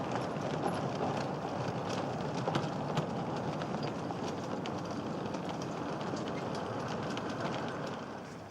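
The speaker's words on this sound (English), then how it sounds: "ridiculously long trains are propelled through the hatch and into the garage at the Beeston Market end" A slow-moving light railway train pushed into storage sidings on a garden-scale line makes a steady, dense rumble and clatter throughout, with faint intermittent clicks and no talk.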